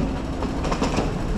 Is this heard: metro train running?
yes